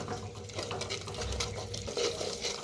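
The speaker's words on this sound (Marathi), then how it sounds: "ते बी भाजून घेऊया" Peanut seeds dry-roasting in a pan for stuffed brinjal curry, giving a steady close crackle and faint patter of kernels shifting against the hot metal, with no voices.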